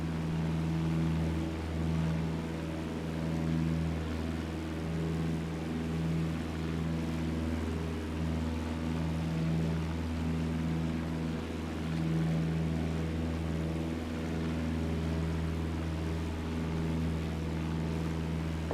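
Steady piston drone of a Piper PA-28 Warrior II engine in Microsoft Flight Simulator, a continuous low hum with constant harmonics holding evenly throughout, alone with no talk.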